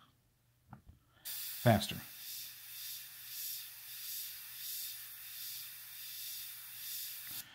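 A Badger Sotar airbrush sprays up close as a steady, even hiss that runs for about six seconds, with a brief louder burst near the start. A voice speaks a word just before the spray begins.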